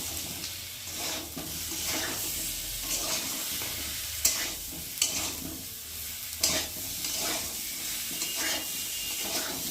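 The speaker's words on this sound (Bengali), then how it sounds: "আর এখন ভেজে রাখা আলুগুলোকে দিয়ে মশলার সাথে ভালো করে কষিয়ে নেব। একটু ভালো করে নেড়ে দেবো।" Fried potatoes being stirred with spices in a pan, a continuous oily sizzle punctuated by spatula scrapes and a few sharp clacks against the pan.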